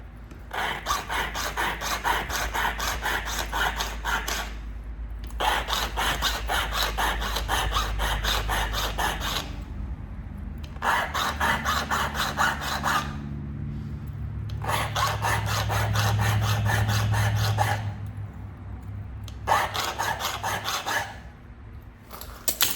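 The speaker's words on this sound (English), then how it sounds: "I'm gonna sharpen this up a little bit with my file" A steel file rasps against the edge of a flint river chert blade in repeated long strokes lasting several seconds each, separated by brief pauses, close and fairly loud with no talking.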